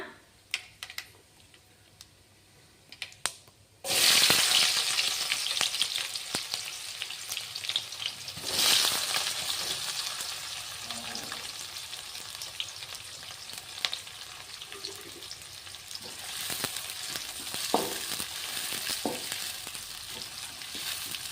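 Onions and urad dal frying in a pan with oil: a sudden loud sizzle when added, then a steady crackling fry with occasional spatula scrapes, close up, no talk.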